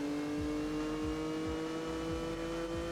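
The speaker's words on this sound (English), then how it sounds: "Oh, listen to that V8 rumble" Race car V8 engine in Gran Turismo 4, a steady droning rumble with strong low tones and a faint periodic whir, constant and close throughout.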